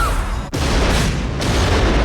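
Loud explosions rip through a sci-fi film action scene, a dense, roaring blast wash with a sharp cut midway before the rumble resumes at full force, continuous and close throughout.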